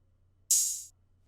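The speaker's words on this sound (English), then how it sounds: "Just as an accent, guys, I added this open hat." A single open hi-hat hit: a bright, sizzling metallic splash that rings for about half a second and fades out, alone against near silence.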